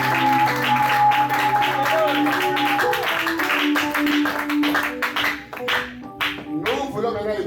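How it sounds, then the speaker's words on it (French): A church congregation applauds and claps together during a French-language gospel service, a dense wash of clapping over sung or spoken voices and tonal music that thins toward the end. "acclamons plus fort."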